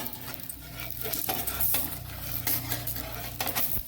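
A methi and ridge gourd dosa being flipped on a hot oiled pan, with a spatula scraping and clinking against the metal over a low, continuous sizzle, close by and without any voices.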